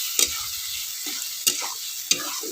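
Egg frying in a pan with poppy seed paste for Bengali dim posto, stirred with a spoon, giving three or four sharp scraping strokes over a soft continuous sizzle, close and without talk.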